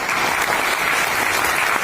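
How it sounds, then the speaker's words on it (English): Steady, dense applause from an audience at a corporate sales training session, loud and continuous without a break, with no talking over it. "let's hear a round of applause for yourself"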